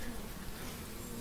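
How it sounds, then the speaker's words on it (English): Honeybees buzzing around a queen cage in a hive split, a steady close drone with no voices. "there are a couple of bees in there"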